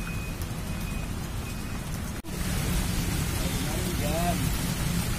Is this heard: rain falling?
yes